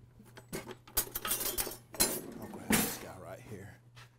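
A spatula scrapes and clinks against a pan and plate while lifting French toast onto a plate, a few sharp metallic knocks and scrapes close by under a speaking voice.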